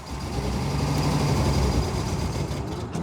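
A 1967 Unimog 404 engine running steadily at close range, a low rumbling drone that may not be firing on all six cylinders, with no talking over it.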